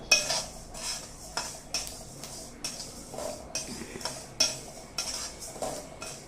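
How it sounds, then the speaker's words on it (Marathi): Coriander, cumin and sesame seeds dry roasting together in a pan, heard as repeated scraping and clinking strokes of a spoon against metal at a steady rhythm, close and fairly soft, with no talking. "पहिल्यांदा धणे जिरे आणि तीळ हे एकत्र भाजून घ्यायचं"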